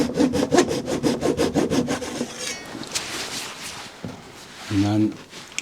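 Handsaw cutting a wooden breadboard end for a table top, with about a dozen fast rhythmic strokes up close, then brief scraping and knocking sounds.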